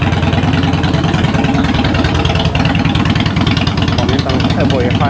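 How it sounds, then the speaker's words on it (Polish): A Sokół 1000 motorcycle engine rumbles continuously through a loud exhaust with a deep, throaty note, dense low-end roar throughout. "Głośny wydech to fajna sprawa"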